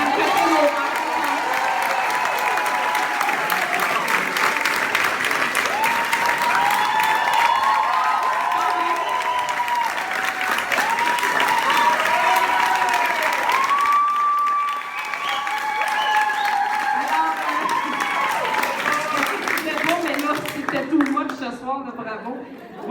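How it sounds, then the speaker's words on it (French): Audience at a secondary school gala in Laval clapping and cheering for an honoree, a long sustained wash of applause with whoops, chatter and voices over it, tapering near the end. "il faut quand même donner une main d'applaudissement à Golden Girl"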